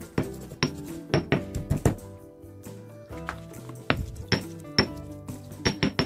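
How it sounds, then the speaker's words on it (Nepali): Tomato chutney spices are ground by hand in a Thakali-style stone mortar, with repeated sharp knocking and clinking strikes in an irregular rhythm, loud and close. "हेर्नुहोस् है, मजाले पिस्दै हामी जान्छौँ यसरी।"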